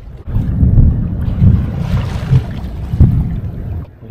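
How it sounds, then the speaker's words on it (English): A low rumble of thunder rolls through a storm, heard from a sailboat at anchor off Montenegro, mixed with wind buffeting and water noise, with a few heavier low thumps. "yeah, you could probably hear that was the thunder."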